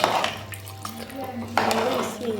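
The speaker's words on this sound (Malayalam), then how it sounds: "നല്ലോണം ഇളക്കുക" Ghee rice ingredients with carrot, coriander and mint are stirred in a pressure cooker pot, a spoon scraping and clinking against the metal in a few distinct strokes while someone talks.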